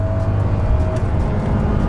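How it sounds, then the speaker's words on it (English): A Maserati V8 engine is revved out, running at a steady, loud idle-like drone with a low rumbling hum and no clear rise in pitch. "Revving it right out."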